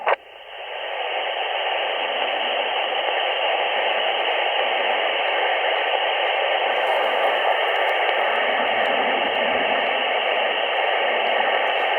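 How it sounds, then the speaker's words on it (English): Steady broadband radio hiss from a portable amateur radio station without a preamp, using an MFJ-1644 whip antenna, fills the clip after a brief click at the start, constant and unchanging, with no voices. "that's the noise floor without a preamp"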